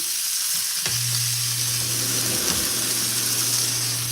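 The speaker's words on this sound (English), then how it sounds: "so now we're like browning the meat" Pork tenderloin browning in a very hot pan, a loud constant sizzle with a steady low hum from a nearby appliance switching on, close and without speech.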